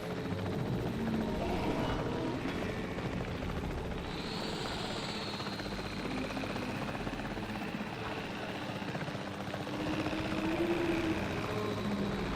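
A helicopter in the Jurassic World Evolution 3 video game holds a continuous loud rotor drone with a steady engine whine, with no break for the whole stretch.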